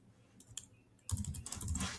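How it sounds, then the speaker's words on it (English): Keys clatter on a computer keyboard as an email address is typed. A few sparse taps are followed by a brisk, close run of clicks, with no voice. "So I just typed in like my email address here."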